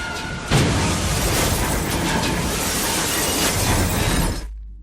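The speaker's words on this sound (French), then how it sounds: "un groupe terroriste provoque une explosion à bord de ce train" An explosion rips through a train in Call of Duty Black Ops III, a loud, dense burst of shattering debris and roaring noise that holds for several seconds before ending abruptly.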